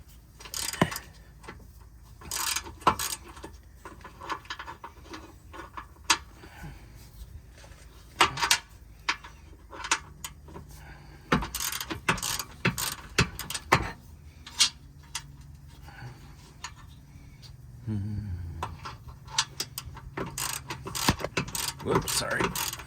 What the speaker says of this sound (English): we're going to pull the bolts off the frame